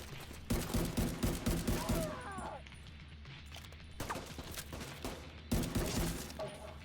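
Video game gunfire in a hardcore survival playthrough: a quick run of evenly spaced shots, then a pause and two further short bursts, fairly close and punchy.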